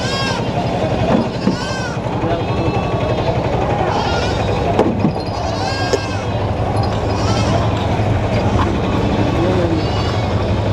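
Rams bleat repeatedly at a busy sheep and goat market in Gudur, close and loud, with people talking over the crowd noise throughout.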